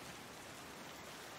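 Video game rain: a faint, even hiss of steady rainfall pattering on surfaces, soft and unbroken through the short stretch with no other sounds.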